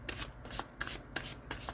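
An old Revelations Tarot deck being shuffled by hand: several quick riffling bursts of light cards in an uneven rhythm, close and fairly quiet, with no talking.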